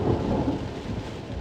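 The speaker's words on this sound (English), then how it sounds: "That's thunder going overhead." Heavy rain pours at a seaside spot as thunder rumbles overhead, a dense low roll of sound across the whole brief moment.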